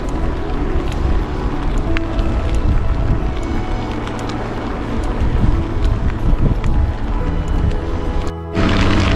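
Strong headwind roaring across the microphone while riding a mountain bike on a long endurance ride, a steady loud rumbling buffet that fills the whole stretch with only a brief dip near the end.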